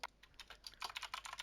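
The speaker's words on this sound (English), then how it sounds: "I'm just going to type over there." Quick, light keystrokes on a computer keyboard while entering text into an Excel spreadsheet, a short irregular burst of close, quiet clicks.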